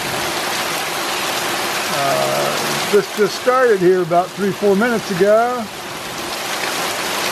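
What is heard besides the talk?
rain falling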